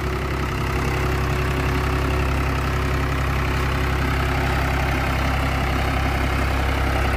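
A Swaraj 735 tractor with a full tank, hitched to a 9-tine cultivator, runs steadily at low revs with a constant deep diesel drone and loud, unbroken mechanical rumble throughout.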